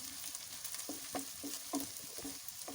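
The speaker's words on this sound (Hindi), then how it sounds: "इसको हम चंद सेकंड के लिए प्याज के साथ ही फ्राई करेंगे" Ginger and garlic frying with onion in a pan for a samosa and patty stuffing: a steady sizzle with a few light, evenly spaced stirring scrapes, close and moderately quiet, with no voices.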